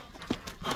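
A grey horse being offered for sale gives a couple of brief hoof clops and a soft shuffle of movement at close range.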